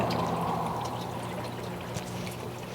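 Steady water pours and trickles continuously as it floods an aquaponics grow bed, a constant close splashing flow with no voices.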